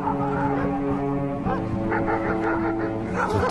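Several dogs bark at a villa on Via del Cappelletto in Sacrofano, with short yips and barks running continuously at a moderate distance over a steady outdoor background, and there is no talk.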